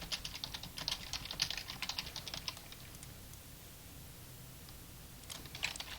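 Quick bursts of typing on a computer keyboard clatter close by, a rapid run of key taps, then a pause of near silence before another short flurry of keystrokes.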